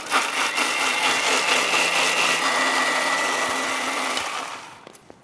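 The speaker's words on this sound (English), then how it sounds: "we'll grind it to a smooth paste" A mixer grinder blends coconut, garlic, ginger and tamarind pulp with water into a smooth paste, a loud steady whirring roar that runs for about four seconds before winding down and stopping.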